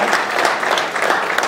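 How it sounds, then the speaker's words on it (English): Audience applause from a crowd at a university chemistry demonstration night, a steady dense clapping that fills the short moment without any talk over it. "let's give a big round of applause for Team Hufflepuff"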